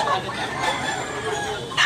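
A Super Sweater bullstag gamefowl rooster clucks and calls close by in short bursts, with a louder cry near the end and a voice murmuring under it.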